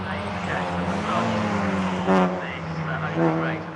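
Race cars, Alfa Romeos and a Ferrari, downshift on track at an Italian car show, their engines rising and falling in pitch with sharp throttle blips. The cars are heard from a moderate distance.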